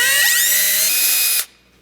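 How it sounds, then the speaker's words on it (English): A cordless drill whines loudly as it bores a 3/8 inch hole through a plastic exhaust catch can on a 2014 GMC Sierra, the motor pitch rising as it spins up, then cutting off abruptly after about a second and a half. "For this hole, I'm just going to be using a cordless drill just because it's plastic."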